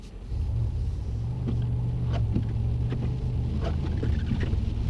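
A Mercedes-AMG car braking hard with ABS on a wet surface at a driving circuit, a steady low engine and tyre rumble with faint rapid pulsing, continuous and fairly close for the whole stretch.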